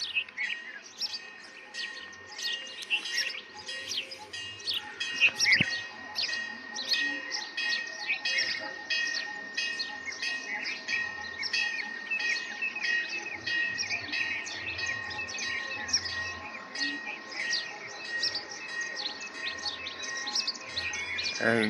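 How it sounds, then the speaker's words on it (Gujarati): Sparrows chirping in the early morning near a temple, many birds calling at once in a bright, busy, continuous chatter of short tweets, fairly close and lively, with no talking. "એ ચકલા મસ્ત મજાના બોલે."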